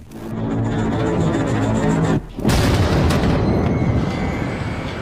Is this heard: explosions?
yes